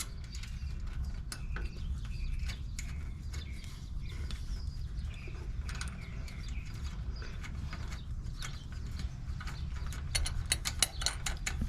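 A ratchet tightening 1/2-inch or 13 mm nuts on a Polaris RZR 200 steering rack, producing many quick light clicks in irregular bursts over a low steady rumble, with faster clicking toward the end.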